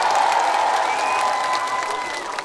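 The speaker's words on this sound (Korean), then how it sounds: "솔찬이 박수 좀 줘보셔요." Audience clapping and light cheering fill the space at an outdoor live concert during a citron festival in Goheung, a dense, steady applause that tapers slightly toward the end.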